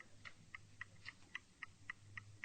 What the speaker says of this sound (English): There's a definite tick coming from the fuse.